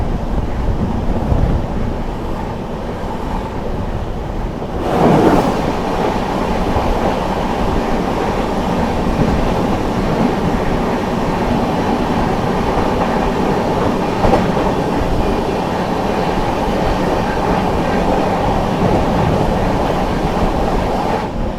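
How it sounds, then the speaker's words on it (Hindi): The New Delhi–Kanpur Shram Shakti Express passes close by at speed, a loud, steady roar of rolling wagons with clickety-clack of wheels on rail joints and heavy wind buffeting the microphone, no voices. "सामने से आ रही है न्यू दिल्ली कानपुर श्रम शक्ति एक्सप्रेस"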